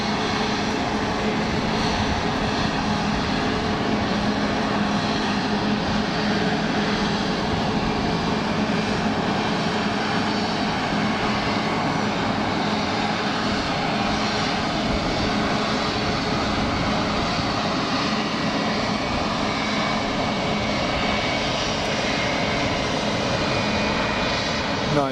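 A Pegasus Airbus A320neo jet at Geneva Airport roars steadily with a continuous engine rumble, heard from a distance on the ground, sustained and unbroken throughout with no talking.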